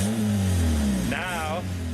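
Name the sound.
beat-up car with fallen-off exhaust revving loudly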